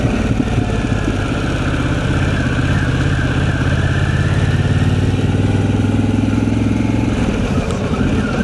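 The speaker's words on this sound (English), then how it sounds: "there's a bit of wind now blowing around. I'll open my visor up" Steady, loud wind rush on a moving motorcycle with the helmet visor of a Shoei GT Air 3 raised, roaring continuously over a low engine drone throughout, fading slightly toward the end.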